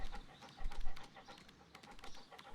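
A dog in a Sherlock Holmes video game pants rapidly and steadily at close range, with rhythmic breathy bursts and no speech.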